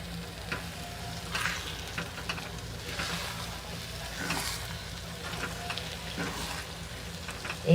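Boiled green peas being cooked into baingan bharta in a frying pan, a steady soft sizzle with repeated scraping stir strokes and light clatter, close by and without speech.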